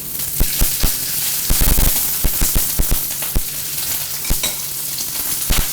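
Shrimp, pork and red onion fry in hot oil for a Vietnamese crispy crepe, a loud close sizzle pierced by frequent sharp crackles and pops of splattering oil.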